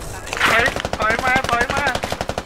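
Rapid automatic gunfire in the military shooter game SQUAD, a dense rattling burst running almost nonstop, loud and close, with a voice shouting over it.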